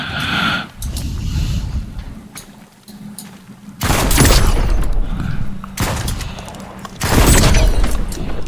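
Grenade bombs explode in the shooter game Active Matter, two loud, booming blasts with rumbling, crackling tails that stand out over steady background gunfire and game noise.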